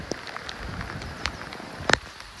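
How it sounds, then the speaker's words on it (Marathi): Light drizzle falls outdoors near Kondeshwar waterfall, a soft steady patter with scattered sharper drops, one louder tap near the end, faint and without voices. "अजूनही रिमझिमच पाऊस पडतोय"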